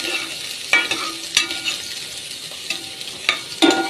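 A ladle stirs garlic, onion and ginger frying in a pan for a vegetable and shrimp coconut stew. A continuous sizzle is broken by several sharp scraping clacks at irregular intervals.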